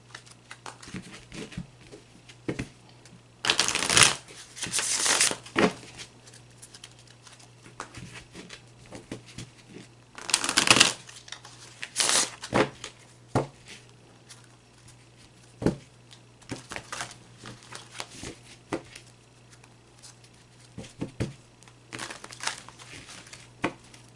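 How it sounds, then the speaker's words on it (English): A tarot card deck is shuffled by hand, making irregular crisp riffles, snaps and papery rustles, close and fairly quiet, with louder bursts scattered between softer handling. "Shuffle the cards."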